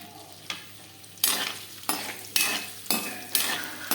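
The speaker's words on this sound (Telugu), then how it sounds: "పన్నీర్ ముక్కలన్నింటినీ కూడా బాగా గోల్డెన్ కలర్ వచ్చే వరకు లో ఫ్లేమ్లో వేయించుకోవాలి" Paneer pieces frying in hot oil in a kadai: a steady sizzle broken by several sharp bursts of stirring and scraping at regular intervals, close and with no talking.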